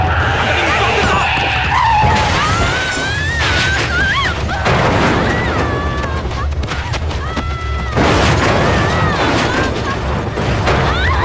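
A car skids to a stop during a dramatic scene, tire noise mixing with loud, dense music and sound effects while a voice talks over it throughout.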